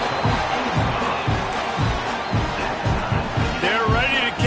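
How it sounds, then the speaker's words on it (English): A stadium crowd in the EA College Football 26 video game buzzes and cheers steadily after a score, a dense roar with rhythmic low thumps and a brief whooping rise near the end. "this crowd is buzzing after that last score."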